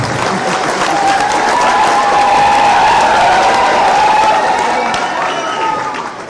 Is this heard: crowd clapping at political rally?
yes